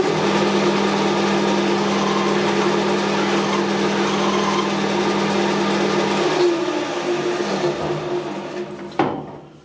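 A metal lathe cuts a small chamfer on the front end of a metal part, a steady motor hum with a scraping cutting tone that fades as the spindle winds down, ending in a brief clunk.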